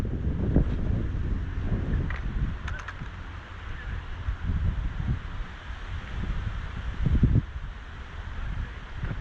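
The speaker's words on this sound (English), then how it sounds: "Quite a bit of wind." Wind gusting over the microphone on the seashore during sea fishing, a continuous low rumbling buffet with some faint splashes and knocks.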